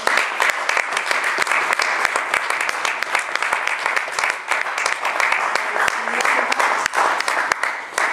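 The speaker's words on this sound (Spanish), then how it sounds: "les pido un aplauso también" A crowd at a presentation on historical army uniforms claps in a continuous, fairly loud round, the sharp individual claps standing out across the full length without letting up.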